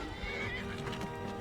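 A horse in the video game Skyrim gives a faint whinny with a rising and falling tone. It sits low in a dense, steady wash of game background noise, and no speech is heard.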